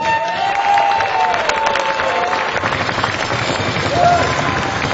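A crowd at an annual dinner and awards event keeps up steady, dense applause, many hands clapping together, with a few whistles and scattered voices mixed into the sustained ovation.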